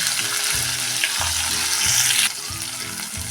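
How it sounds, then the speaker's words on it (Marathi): Chopped okra sizzles steadily in a hot pan over a high flame, a close, even frying hiss with faint stirring and scraping sounds, and no talk. "हे चिरलेली भेंडी आता ह्यामध्ये टाकून"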